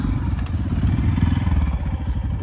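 A motorcycle engine rumbles close by in a steady, throbbing drone, climbing a steep, dusty off-road hill track near Bhairavkunda in Sindhupalchowk.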